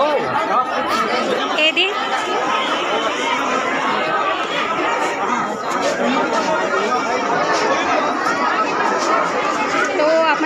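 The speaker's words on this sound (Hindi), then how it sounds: "बहुत ज़्यादा भीड़ है भवन में" Dense, loud crowd chatter fills a packed indoor hall at an Adivasi Day gathering in Kawardha, Chhattisgarh, with many overlapping voices and occasional laughter throughout.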